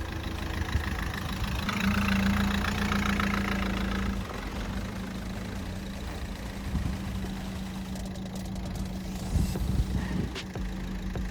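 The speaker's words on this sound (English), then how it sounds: "Finally, I want to drive over the watch with my car." A car of about 1500 kilograms drives slowly over a rugged smartwatch, its engine idling and rumbling steadily, with some crunching and scraping bursts near the end.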